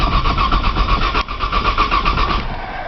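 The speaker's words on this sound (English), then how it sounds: "If you put it to the floor, it won't crank." A car engine cranks on a cold start without catching, a loud, fast, even whirring chug from the starter that runs on for nearly three seconds and then fades.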